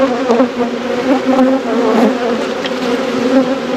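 A steady, close drone of many honeybees fills the air around an opened hive during an inspection, wavering in pitch with no voices.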